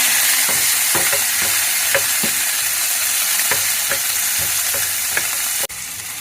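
Tomatoes are tipped into a hot pan and fried, a loud steady sizzle under repeated rhythmic scrapes of a spatula stirring close up, with no voices.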